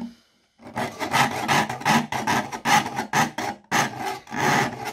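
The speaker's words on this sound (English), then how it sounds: "you're really sawing on the downward stroke, not the upward stroke" Repeated rasping strokes of a hand saw cutting copper sheet, close and loud, in a steady back-and-forth rhythm with brief pauses.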